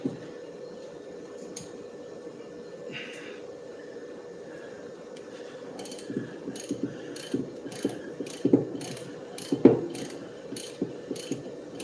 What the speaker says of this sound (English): I've had this snap-on spud ratchet for about 10 years